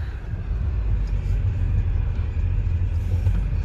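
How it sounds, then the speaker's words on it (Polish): A truck passes by an orchard as a low, steady rumble, close and fairly loud, holding level throughout with no other clear sounds. "Słyszę ciężarówkę"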